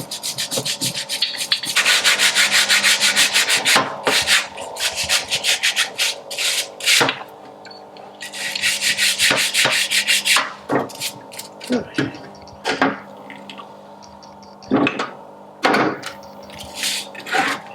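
Oily crud being scrubbed off the top-end engine parts of a BSA Bantam motorcycle, a close, steady rubbing and scraping in long bursts broken by short pauses and single strokes, loud and near, with no talk.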